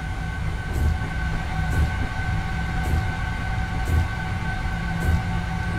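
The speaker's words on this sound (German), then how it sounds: "Da setzt sich unser Zug jetzt" A train in Train Simulator 2020 on the Mannheim to Biblis route gets moving with a steady low rumble, a constant tonal hum, and a regular clack from the wheels roughly once a second.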